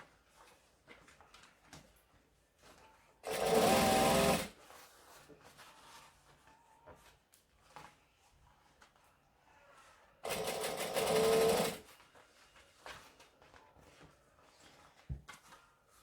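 A sewing machine stitches a seam in two bursts of steady, rapid needle whirring, each lasting about a second, with quiet handling noises and fabric rustling between them.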